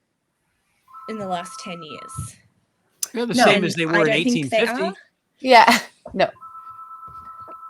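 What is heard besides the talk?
phone ringing or notification sound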